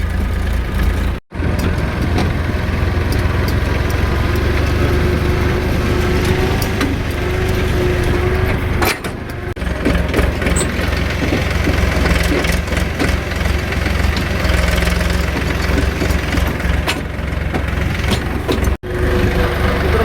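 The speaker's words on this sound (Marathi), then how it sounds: "भाऊनो ट्रॅक्टर छोट्या छोट्या चढांना पण लय दमवा लागलाय" A tractor engine labours in its lowest gear as it hauls a heavy four-wheel trailer up a small incline. The low rumble runs loud and continuous, with a couple of brief dropouts.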